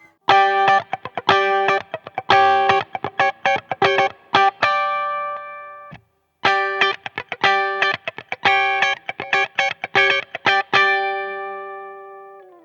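An electric guitar, a Fender Ultra II Stratocaster on a clean humbucker tone, plays a funky, choppy rhythm with a bright sound, short muted strums and chords ringing out, close and fairly loud.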